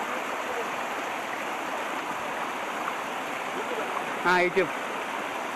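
Steady broadband rush of water at Sunnappugadda waterfall near Seetampeta, Srikakulam, filling the whole clip, with a brief voice cutting in near the end.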